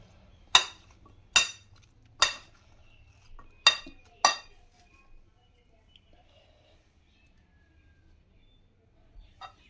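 A spoon clinks against a bowl while fruit chaat is mixed with chaat masala, giving five sharp, evenly spaced taps, then a few softer knocks near the end, with no talk.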